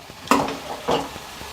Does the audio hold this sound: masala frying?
yes